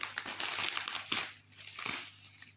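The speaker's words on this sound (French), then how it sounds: "le sort de son emballage, du papier bulle" Close, loud crinkling and rustling of bubble wrap packaging being handled and pulled apart, in bursts with brief pauses.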